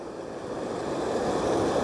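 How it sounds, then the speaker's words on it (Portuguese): Water from the transposed São Francisco river flowing into the Castanhão reservoir, a steady broad rushing wash with no other sounds. "Olha as águas aí da transposição chegando no maior, no maior açude da América Latina"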